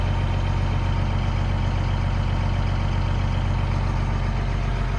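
An FMTV military truck runs steadily while pumping up its big tires, giving a loud, continuous low engine drone with an even idle and no breaks.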